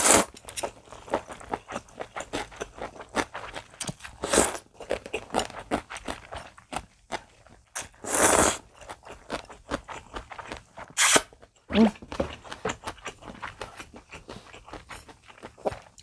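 Close, intermittent slurping and chewing of 100% buckwheat makguksu noodles in cold broth, with scattered soft crunches and a few louder bursts of slurping, no talking.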